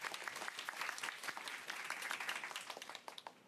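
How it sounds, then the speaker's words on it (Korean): Audience applause welcoming a guest onto the stage at a Korean youth panel event, dense, sustained clapping from a sizeable crowd that thins out toward the end, fairly distant and soft. "박수로 맞아주십시오"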